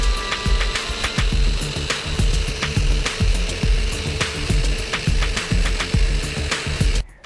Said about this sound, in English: So now that I got that kind of evenly sanded with that drum there